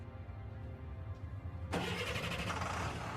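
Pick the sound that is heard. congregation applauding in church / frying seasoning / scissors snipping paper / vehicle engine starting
vehicle engine starting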